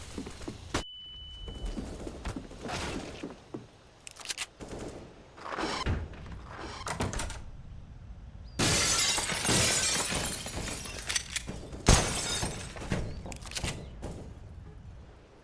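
Flashbang grenade in the CS:GO video game, a sharp burst followed by a loud, bright ringing crackle that lasts a few seconds amid scattered gunfire and thuds, with brief voices.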